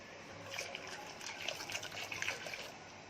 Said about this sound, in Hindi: अब इसमें पानी डाल रही हूँ।